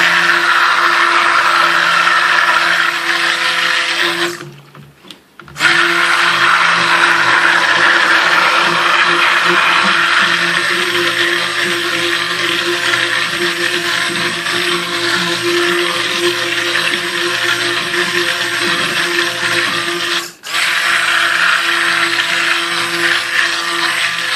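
A cheap stick blender mixing soap whirs loudly and steadily, pausing briefly twice before starting up again with the same high-pitched motor hum.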